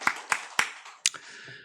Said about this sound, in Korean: 우리 시간에 하나님께 박수로 한번 영광을 올려드렸으면 좋겠습니다